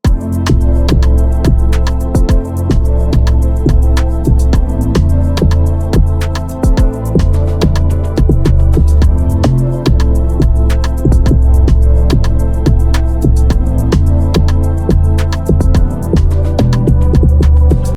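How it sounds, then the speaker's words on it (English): Log drum woven into an Afrobeats-style production beat, hollow rounded low hits repeating in a bouncy syncopated pattern over dense percussion and bass, loud and continuous throughout with no voices. "I added this little log drum just for shits."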